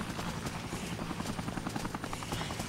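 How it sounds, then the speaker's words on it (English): Helicopter in the video game Dead Rising, its rotor blades chopping in a fast, steady rhythm against a dense engine roar, fairly loud and continuous. "there's a helicopter"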